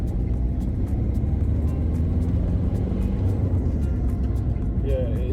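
A Ford Fiesta diesel engine pulling under acceleration from inside the car, a steady, heavy low rumble with a faint rising whine near the end.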